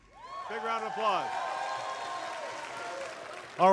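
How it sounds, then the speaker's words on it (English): Audience applause fills the hall at The Game Awards 2014 ceremony, a steady crowd clapping running under music and voices, with a louder swell right at the end. "Big round of applause."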